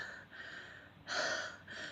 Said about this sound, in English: Apologies for the wheezing, by the way.